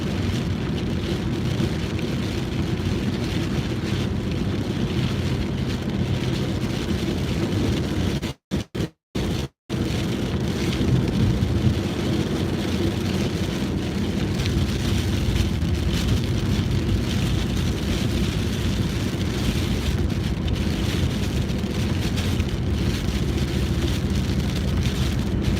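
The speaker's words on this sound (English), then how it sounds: "It's just so much rain right now." Heavy rain during a storm in extreme northeast Tennessee drums loudly and steadily on a vehicle, a dense unbroken roar broken only by a few brief dropouts about a third of the way through.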